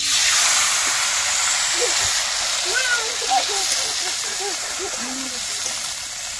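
Soaked, washed dried fish sizzling in hot oil in a wok, a steady broad hiss filling the clip with talk over it.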